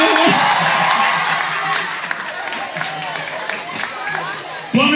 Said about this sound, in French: On applaudit très fort pour le président, il va marcher.